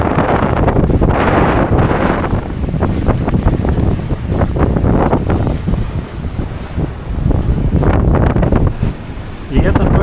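Strong wind of around 40 knots buffets the microphone on a sailboat running downwind in big swell, with waves and surf rushing continuously, loud and close throughout.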